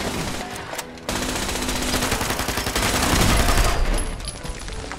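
Turret gunfire in the Fallout 76 video game: rapid, loud automatic bursts fire continuously, dense and close, with a brief gap near the start before the barrage resumes and swells.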